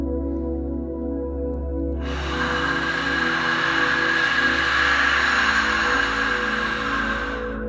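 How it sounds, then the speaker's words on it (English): Long breathy exhale from the top of the throat, a soft airy hiss like wind that starts suddenly and holds steady for several seconds over a low background hum. "we're going to make the same ha sound that we did before, but this time it's going to sound more like wind"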